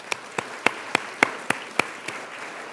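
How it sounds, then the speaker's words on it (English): A few people at a community college awards event clap slowly and sparsely, about eight distinct claps spaced evenly, close and crisp against a quiet room. "Let's give a big round of applause for everyone who contributed to success for tonight's event."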